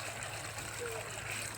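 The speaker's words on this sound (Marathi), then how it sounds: "आता मी हे स्वच्छ धुवून घेणार आहे" Water running steadily while wild tubers are washed by hand, a faint, continuous rushing hiss with no clear splashes or voices.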